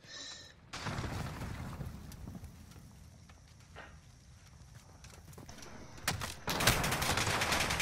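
Rapid gunfire in a video game, with bursts of shots and impacts rising at the start and again near the end over a continuous noisy game backdrop; no one speaks.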